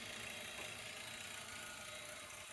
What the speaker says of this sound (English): I'm hearing the water flowing through it